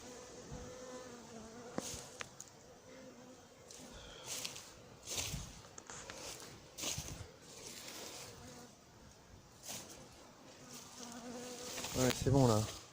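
Steady buzzing of honeybees swarming around beehives at an apiary where sugar has been set out, with individual bees droning close past the microphone, soft footsteps and a brief human voice in the background.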